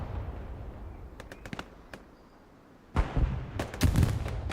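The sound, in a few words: explosion and gunfire in the video game Hell Let Loose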